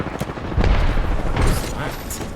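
Frag grenade blast in Apex Legends, a loud low boom with a rumbling tail landing mid-clip amid ongoing game noise and a player's voice.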